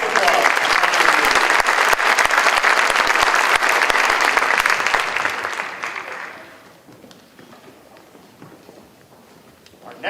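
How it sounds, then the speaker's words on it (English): Applause at a county promenade breaks out loud and dense for about six seconds, then fades away to a quiet room with faint background noise. "Round of applause."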